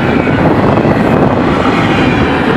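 A loud, steady rumble of a Florida East Coast intermodal freight train rolling past close by in Port Orange, Florida, with a continuous rattling, wind-buffeted roar.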